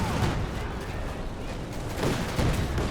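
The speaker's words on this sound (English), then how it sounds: "Major artillery." Artillery fire in the Company of Heroes 2 strategy game, dense overlapping booms and crackling gunfire forming a steady loud battle din, with a commentator's voice audible over it.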